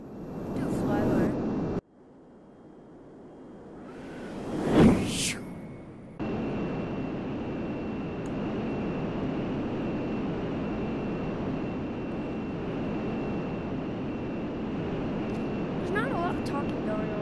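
Aircraft in SimplePlanes, a flight-simulation game, swelling into a loud broadband whoosh as it sweeps past mid-clip, then settling into a steady engine drone.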